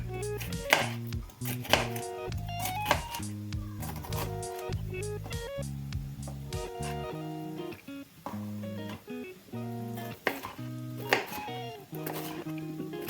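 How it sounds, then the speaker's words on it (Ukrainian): A knife chops rapidly on a cutting board, cutting bell pepper into cubes, a steady run of crisp taps with a few short pauses, close and clear. "Я перець теж буду нарізати кубиками."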